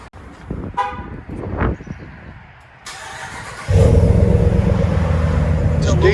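A 2020 Dodge Ram with a 5.7L V8 and dual exhaust through Flowmaster Super 10 mufflers starts with a crank and catches into a deep, loud, rumbling idle, preceded by some shuffling and brief background noise.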